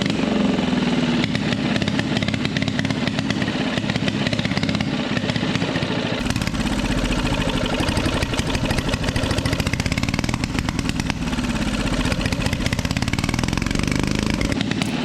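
A small engine runs flat out with the throttle left wide open, a loud, steady, buzzing roar that holds continuously without letting up.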